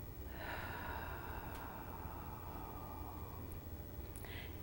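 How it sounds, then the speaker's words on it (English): A forceful, breathy exhale through the mouth at the end of a seated Qigong breathing exercise, close and steady, fading out over a few seconds. "Now blow everything out your mouth on the exhale"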